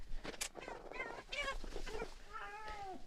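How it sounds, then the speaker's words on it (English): A cat meows repeatedly behind a closed door, a run of close, plaintive cries of varying pitch over a quiet room. "I've got the cat meowing behind the door."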